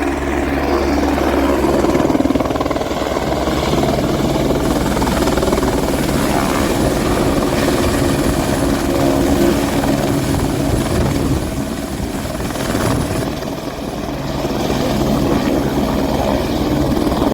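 A helicopter at the Kedarnath helipad roars loudly and steadily for the whole stretch, its rotor and engine noise constant and close with no voices.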